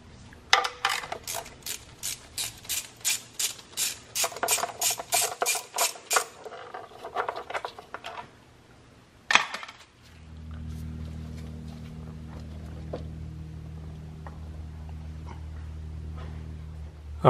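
Corvette intake manifold being pried loose from the engine: a quick series of rhythmic metallic clicks and ratcheting taps, a sharp clank, then a steady low droning hum, with no voices.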